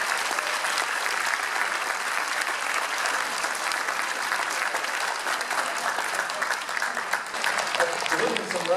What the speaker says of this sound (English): how about a nice big round of applause for these public servants